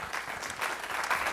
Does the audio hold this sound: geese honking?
no